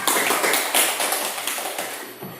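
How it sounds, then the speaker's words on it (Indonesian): A classroom group claps in short, rhythmic bursts that fade gradually, fairly close by and with no speech over it. "Beri tepuk tangan pada kelompok 2."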